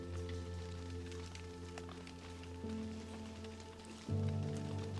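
Seeds falling from a forest canopy like rain: a dense, steady pattering of many small impacts spread all around, over a constant low hum, with no talking.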